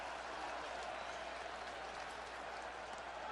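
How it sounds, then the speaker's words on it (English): A baseball stadium crowd at a Dodgers home game roars and applauds in a dense, steady wash of cheering and clapping, heard at a distance under faint broadcast murmur. "a nearly delirious crowd ready to roar to the heavens"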